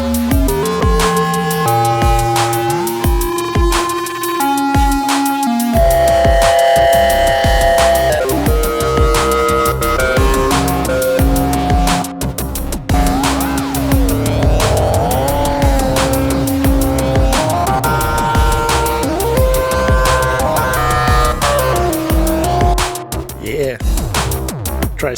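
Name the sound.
SSF Zephyr synthesizer oscillator in flip mode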